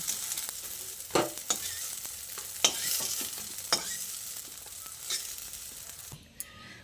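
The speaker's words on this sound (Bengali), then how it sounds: "এইভাবে সয়াবিনগুলোকে হাই ফ্লেমে খুব ভালো করে ভেজে নিতে হবে" Continuous hissing sizzle of soybean chunks frying in hot oil on high flame, punctuated by sharp scrapes and taps of a spatula stirring in the pan.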